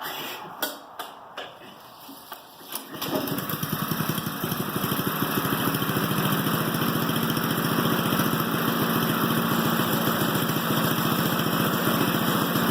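A Yard Machine lawn mower engine starts after a few seconds of handling noise, then runs steadily and loudly with a constant throbbing drone until the end.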